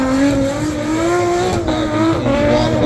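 An 800 bhp 2JZ drift car at a Bishopscourt drift competition holds a loud, continuous high engine note with sliding pitch, mixed with close tire squeal throughout.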